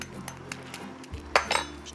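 A spoon clinks against a dish while Chinese-style egg noodle soup is being cooked, a few sharp, scattered metallic taps over a low kitchen hum, the louder clinks bunched near the end.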